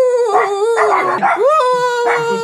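A dog barks and howls loudly and close by, a long wavering howl broken by yips and whimpering cries, with no talk.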